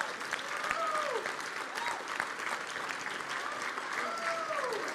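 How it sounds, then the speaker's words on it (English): Conference audience applauds the security team at the Shmoocon 2017 closing remarks, steady dense clapping from a large crowd filling the room, with a few whistles rising above it. "we're going to get you a big old round of applause"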